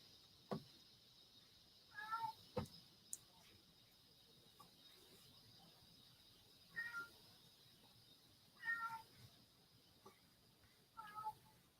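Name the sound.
cat hollering outside the door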